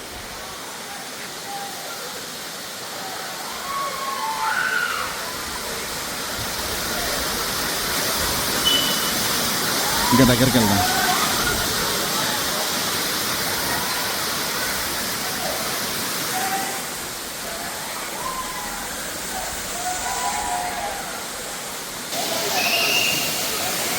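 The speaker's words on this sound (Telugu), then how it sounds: "ముందు ఉంది వాటర్ ఫాల్ ఒకసారి చూడండి" A rain-swollen waterfall at Bhairava Kona fills the scene with a steady, close, broadband roar of rushing water, while people talk over it briefly.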